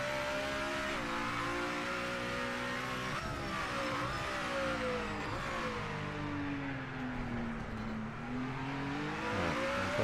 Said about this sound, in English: The engine sounds weird still when you're running in 7th gear.